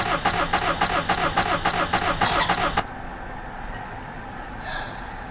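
An old car's engine cranks over and over without catching, a loud, steady rhythmic churning that runs for almost three seconds and then cuts off, leaving quiet background noise.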